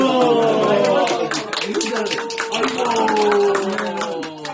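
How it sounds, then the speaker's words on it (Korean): A small family group claps briefly and unevenly while several voices talk and exclaim over the applause, during a Chuseok holiday group photo. "박수."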